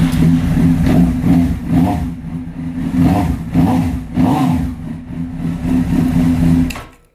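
A 2005 Honda CB900 motorcycle engine cranks on the starter, catches and runs close by with repeated rising and falling revs, then cuts off abruptly at the end.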